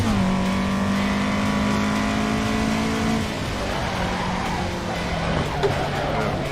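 AE86 engine in Assetto Corsa drifting on a circuit, steady loud revving drone that holds a high pitch then drops as the car lets off, with tire noise underneath and no speech.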